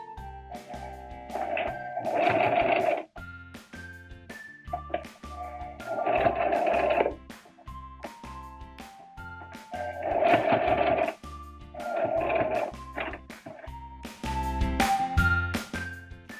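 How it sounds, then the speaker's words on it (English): A sewing machine stitches fabric for a face mask made from Crown Royal bags, running in several short whirring bursts separated by pauses, with light clicks and taps between runs. "I'm going to start not at the very end, but a little bit in, and then I'm going to go backwards to sew off the end."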